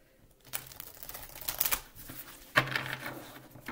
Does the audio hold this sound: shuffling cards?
yes